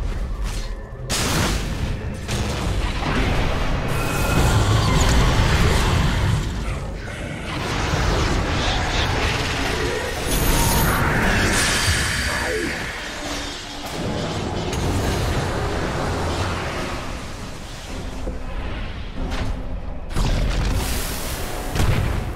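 A Dire tower in Dota 2 comes under attack amid booming impacts and layered battle noise, repeated thuds and blasts rolling on loudly and continuously, with no voices.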